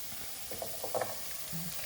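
Oil and a little ghee sizzling in a pan, a faint steady hiss with light scraping and clinking touches over it.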